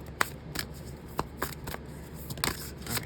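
Tarot cards being shuffled in a quiet room, a series of short crisp riffling bursts spaced irregularly, close and fairly soft.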